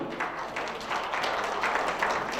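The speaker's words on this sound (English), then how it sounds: "Please join me, please, and give him a round of applause." Audience at a South Asian American labor alliance conference applauding, a steady, moderately loud wash of many hands clapping with no talk over it.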